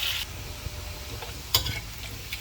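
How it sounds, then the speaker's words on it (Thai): Salted pork frying in hot oil sizzles close up, with a scraping stir and a sharp clink of utensil against the pan partway through. "ทอดหมูธรรมศาสตร์ ใส่เกลือ"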